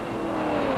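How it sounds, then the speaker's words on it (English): Blue John Wyer Ford GT40 race car at Le Mans in 1969, near the slow Mulsanne corner, a brief steady engine roar, loud and continuous. "It is the blue Ford, John Wyers Ford, the very same car that won here last year, that is holding the lead right now."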